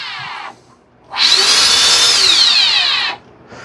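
An electric ducted fan on an FGFRC Aeroscout RC jet, its ESC set up for thrust reversing, spools up to a loud, close, high whine, holds it for about two seconds, then cuts back, with softer fan whirring before and after.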